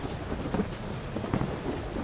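Unseasonal rain in Gujarat's Junagadh area, near the mango orchards of Mendarda, falls steadily with low rolling thunder. A dense, continuous wash of rain noise is broken by deeper rumbles, and no voices are heard.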